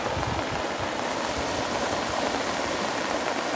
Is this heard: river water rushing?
yes